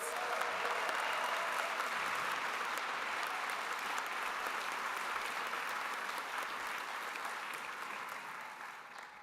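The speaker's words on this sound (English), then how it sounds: "Let's give them another round of applause." Sustained audience applause for PhD graduates at a university commencement ceremony, a broad, steady wash of many hands clapping throughout that fades slightly toward the end.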